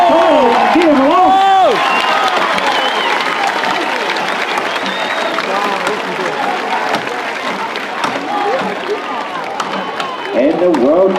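A crowd cheers and applauds at the 325mm world championship tree felling final, a loud, steady roar of clapping and shouts with a commentator's voice carrying over it throughout.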